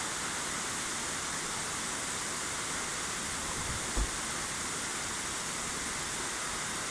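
Heavy rain pours at night in London, a dense, even hiss that holds steady throughout with one brief soft knock partway through.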